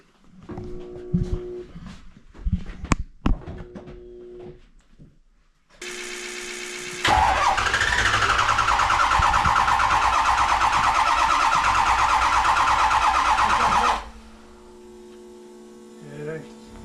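A 2005 Ford 6.0 Powerstroke diesel engine cranks on its starter in a loud, steady whirring run of roughly seven seconds, framed by people talking nearby, a few sharp clanks beforehand and a low hum after it stops.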